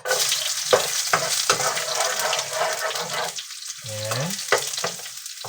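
Ginger frying in hot oil for chicken curry crackles and sizzles up close, with several sharp scrapes as it is stirred and a brief voice partway through.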